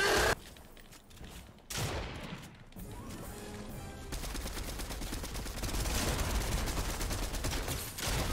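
Rapid gunfire in a video game shootout, shotguns among the weapons, with dense, loud overlapping bursts and crashes that grow into continuous firing over several seconds, with no voices over it.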